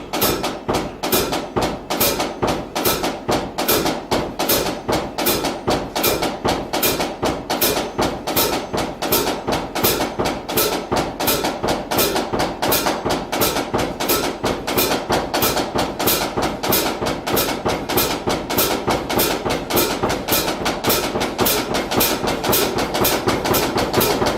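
Drumstick accent exercise played as a fast, evenly spaced stream of sharp, crisp strikes that carries on without pause, close and fairly loud, with no talking.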